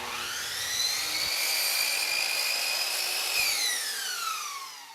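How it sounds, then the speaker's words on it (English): A miter saw whines up to a high, steady pitch and slices through polyurethane baseboard molding at a 45-degree bevel, holding the cut for about two seconds before the blade spins down, loud and close. "For the left piece, we will put the top of the molding up against the fence and just cut it at the 45-degree bevel"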